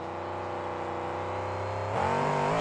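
Witch Hunt, a monster truck driven by Clay Dixon, revs hard at high RPM during a slap wheelie at a 2007 KORR Monsters event in Tacoma, Washington. A loud, steady engine roar surges and climbs in pitch near the end.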